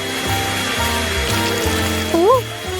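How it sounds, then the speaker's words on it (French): A hair dryer runs steadily at close range, a broad airy whoosh with a motor hum underneath, with a brief whistling tone rising near the end. "Oh, je vais utiliser le sèche-cheveux."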